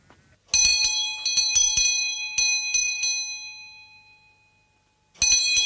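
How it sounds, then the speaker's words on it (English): A bell rings in a rapid cluster of sharp metallic strikes, the tone lingering and fading, then rings again after a pause. "Answer that bell, someone yet."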